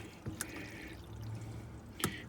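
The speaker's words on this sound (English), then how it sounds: "So now all we're going to do is we're going to put diesel inside of here" Diesel fuel poured into the fuel filter reservoir of a Freightliner truck, a soft liquid trickle with a couple of brief knocks, heard close and fairly quiet.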